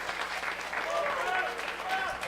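Crowd at a professional wrestling show in Chester, South Carolina applauding, a steady spread of clapping with cheers and a commentator's voice running over it.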